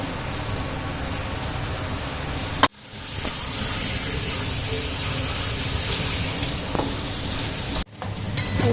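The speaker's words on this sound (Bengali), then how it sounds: "মটনটা ধুয়ে নিচ্ছে" Mutton being washed under a running tap in a home kitchen, with a steady close splashing rush of water that cuts out briefly twice before resuming.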